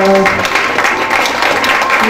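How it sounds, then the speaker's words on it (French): Guests at a religious wedding applaud in a brief burst of clapping, loud and close, with musical tones briefly heard at the start. "Applaudissons, applaudissons, applaudissons"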